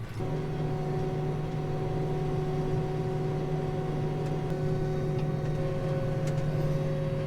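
A vehicle on a farm drives slowly in a circle with a steady engine hum and strong tonal drone, constant and close throughout, with faint clicks above.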